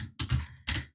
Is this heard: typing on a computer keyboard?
yes